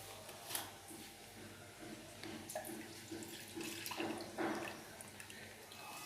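Milk from a half-litre packet pours into a cooking pot in a continuous close splashing stream, with a few louder gurgles and bursts as the flow shifts, without talk.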